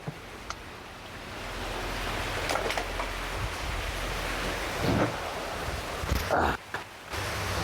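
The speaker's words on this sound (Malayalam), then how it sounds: "ഈ മഴ കഴിയട്ടെ" Steady rain pours down in a dense hiss, with a few brief knocks and clatters nearby and muffled voices faintly underneath.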